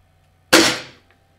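A CBC Jade Pro air rifle fires a single sharp, loud shot close by, with a quick decaying tail in an otherwise quiet setting.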